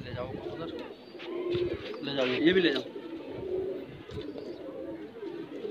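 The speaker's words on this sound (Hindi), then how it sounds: "जब्बू चाचा के बहुत अच्छे कबूतर हैं।" Desi high flyer pigeons coo in low, soft bursts close by, mixed with voices talking over them and background bustle.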